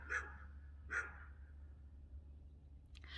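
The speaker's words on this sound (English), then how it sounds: "let's hope they don't bark constantly" Dogs on a one-acre homestead barking at a newcomer: two separate sharp barks near the start, then quiet with a low steady hum underneath.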